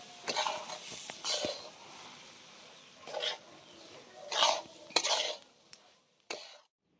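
A spoon scrapes and stirs fine semolina roasting in a hot kadai for karanji filling, in several separate bursts of gritty scraping with quiet pauses between them.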